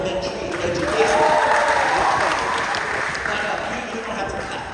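An audience at a school speaking event claps steadily for several seconds, a broad even wash of applause that swells and then slowly eases.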